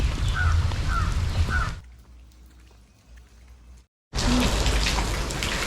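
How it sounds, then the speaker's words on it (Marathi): Rain falls outside a temple at Mahad, a dense patter of drops with crows cawing over it, then the downpour drops to a faint drizzle before returning loud and close. "इथे पाऊस पडतोय चक्क"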